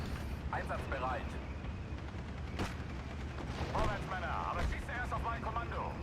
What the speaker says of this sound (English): I'm going to mortar these Piat squads.